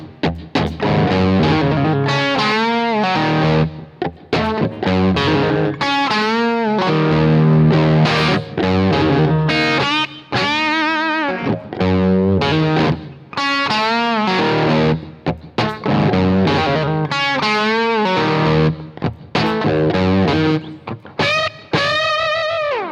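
Distorted electric guitar played loosely, with bursts of chords and bending lead phrases through an effects unit, loud and continuous with short gaps, no talking.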